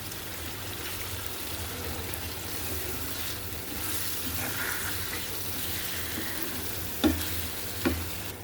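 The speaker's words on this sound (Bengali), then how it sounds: "ভালোভাবে মশলাগুলো সুন্দর করে আমি কষিয়ে নিচ্ছি" Spices and chopped tomato fry in a pan for a small mola fish chorchori, giving a steady close sizzle with stirring scrapes and two sharp clinks near the end.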